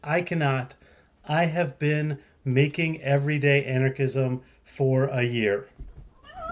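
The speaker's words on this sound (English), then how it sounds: "That was the cat." A pet cat meows briefly in the gaps of a man's close, continuous speech.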